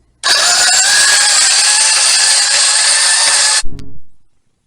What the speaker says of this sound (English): Regal Kitchen Plus grain mill, which does a pretty good job. So I'm going to go ahead and grind my wheat into flour, and it's a pretty noisy operation